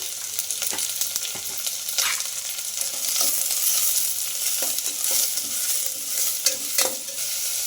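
Onions frying with curry leaves and a little salt in a pan, a steady close sizzle broken by repeated scraping stirs, with no voices.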